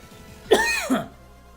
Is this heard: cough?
yes